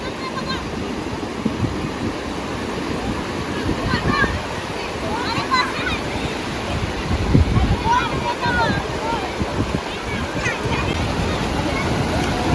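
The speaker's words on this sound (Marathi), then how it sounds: "समुद्राला भरती आहे" High-tide sea waves wash continuously onto Rajodi beach at Vasai, with rushing surf and gusty wind buffeting the microphone while people talk nearby.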